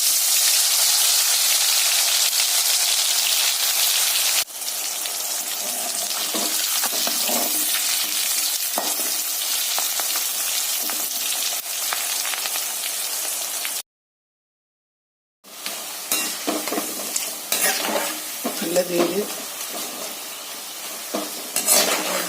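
Bitter gourd frying in bran oil, a loud continuous sizzle with stirring scrapes; the hiss briefly cuts out, then resumes with clinks and bubbling crackle.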